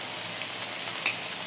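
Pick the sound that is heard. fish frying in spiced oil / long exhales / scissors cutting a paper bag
fish frying in spiced oil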